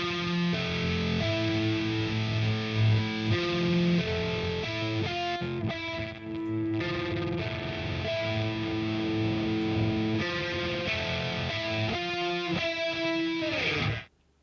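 Heavily distorted electric guitar through an amp simulator plays chugging metal riffs and sustained chords, loud and thick, continuing steadily before cutting off abruptly at the end.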